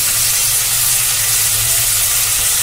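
Roughly chopped tomato goes into a pan of frying capsicum while making chow mein, giving a loud, steady, close sizzle and hiss with no voices over it.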